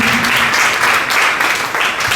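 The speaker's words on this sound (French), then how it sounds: "Nos applaudissements peuvent être un peu plus nourris que ça." Audience applause fills a hall at an Easter symposium: a steady, dense wash of many hands clapping at once, loud and close, holding for a couple of seconds without a break.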